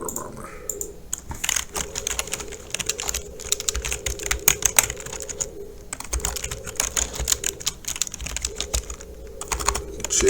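Computer keyboard keys are tapped in rapid, irregular clusters with short pauses between them, close and clear, with no voices.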